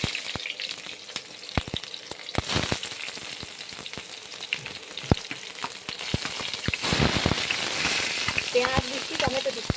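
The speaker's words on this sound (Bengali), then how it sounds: "এবারে কড়াইয়ে পেঁয়াজগুলো দিয়ে দিচ্ছি" Onions sizzling and frying in oil in a kadai, a steady crackling hiss with sharp spatter pops and occasional stirring scrapes, close and fairly quiet.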